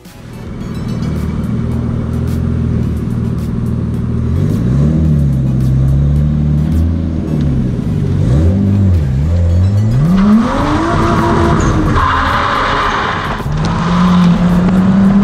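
A Mazda RX-8 on new tyres and rims during a test drive: a loud close engine holding a steady drone, then revving and rising through gear changes with rising and falling pitch sweeps, with occasional faint talk.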